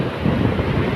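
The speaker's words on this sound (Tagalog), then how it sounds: "Galit na galit ang tubig, ba? Sa bato." Sea waves surge and crash against rocks along a rocky shore, a steady close roar of surf mixed with wind buffeting the microphone throughout.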